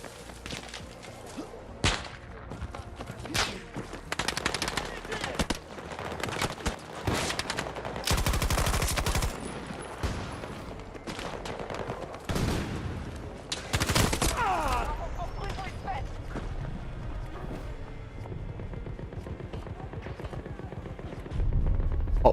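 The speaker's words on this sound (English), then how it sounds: "Someone shooting me somewhere." Gunfire crackles in a Battlefield video game, with rapid bursts and sharp single shots over a busy battle din, plus whooshes and a voice talking at times.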